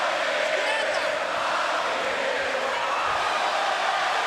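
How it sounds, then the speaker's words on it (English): Boxing arena crowd at a Pacquiao vs Marquez fight, a steady loud roar of cheering and noise through the whole stretch, with a commentator's voice partly under it. "And listen to the crowd. They're into it."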